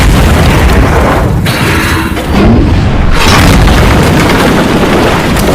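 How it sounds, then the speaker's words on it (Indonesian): A T-34 tank fires its cannon and destroys a German Panzer tank in a 2012 World War II war film. Loud booming blasts come in two bursts with a short lull between, followed by a rumbling tail, and no one speaks. "Ipan langsung mengeluarkan tembakan dan membuat tank panser itu pun hancur"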